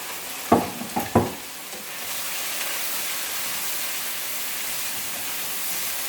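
Mushrooms dropped into a hot pan for a chicken cacciatore casserole: a few sharp thumps at first, then a steady, even sizzle hissing alone for the remaining seconds.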